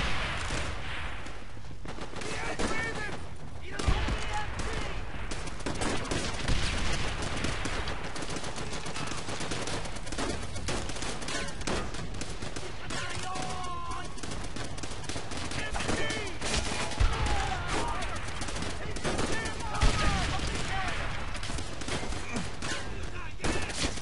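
Dense, chaotic gunfire and explosions in Call of Duty: World at War, a grenade launcher being emptied amid continuous machine-gun fire and battle noise for the whole stretch, with faint voices mixed in.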